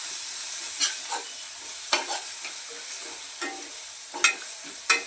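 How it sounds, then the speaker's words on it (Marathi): Dried bombil chutney with onions frying in a pan, a steady soft sizzle broken by several sharp stirring scrapes, close and moderately quiet, with no voices. "चटणी ही आपली छान परतून झालेली आहे कांद्यासोबत"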